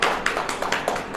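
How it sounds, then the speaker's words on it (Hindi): Congregation clapping hands during a Hindi Christian worship sermon, a fast steady run of bright claps with sharp peaks, busy and close throughout with no clear talk over it. "अब ताली बजाओ"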